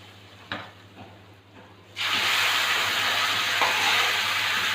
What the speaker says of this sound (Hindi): अभी जो बघार हमने तैयार किया था उसको अभी कड़ी में डाल देंगे।